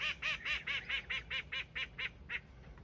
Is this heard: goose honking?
yes